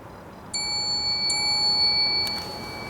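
During a nighttime ghost hunt, a small bell dings twice in quick succession with clear ringing overtones, followed by a faint clink, all over a quiet hiss with no voices.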